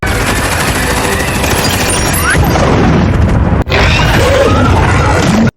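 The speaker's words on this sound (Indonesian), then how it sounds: "Lalu para petugas menembak tempat itu, dan akhirnya meledak." A loud, sustained roar of explosion and rumbling blasts from the film Venom: The Last Dance, dense and continuous with a brief cut near the middle before the roar resumes.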